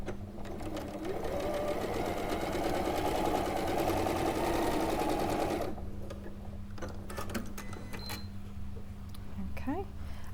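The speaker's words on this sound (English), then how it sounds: "I'm going to stitch along that line" A sewing machine stitches a quilt square along a drawn diagonal line, running steadily and closely for about six seconds, then stopping abruptly. Faint handling clicks follow.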